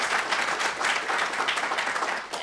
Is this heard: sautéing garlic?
no